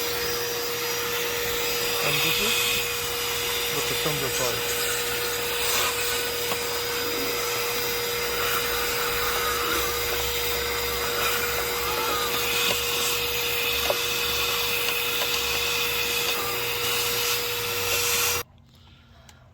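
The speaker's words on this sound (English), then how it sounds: "we clean up all the dirt, debris with the vacuum" A loud vacuum cleaner drones steadily and close for most of the clip, cleaning dirt from a Maserati Quattroporte engine bay, with rubbing and scraping noises over it, then cuts off abruptly near the end. A voice speaks briefly.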